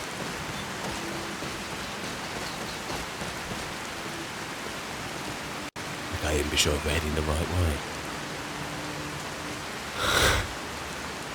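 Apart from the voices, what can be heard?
rain falling in the video game Skyrim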